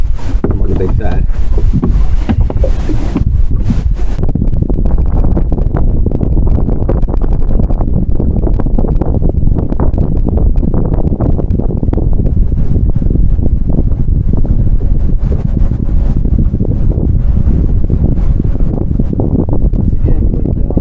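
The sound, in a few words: wind blowing on a fishing boat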